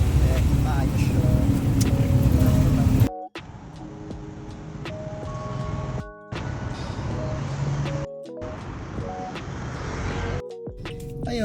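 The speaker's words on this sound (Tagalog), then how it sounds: "sakay ako ngayon sa tricycle" Motorized tricycle ride, a steady engine rumble with road noise heard from inside the vehicle, broken by a few abrupt cuts, while a person talks over it.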